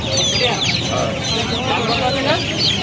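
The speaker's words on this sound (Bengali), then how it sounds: "এটা কি মুরগি আছে? এটা অস্ট্রেলিয়ান মুরগি আছে।" Several Australian breed chickens cluck and squawk close by at a poultry market in Uluberia, overlapping busily with no pause, loud and continuous.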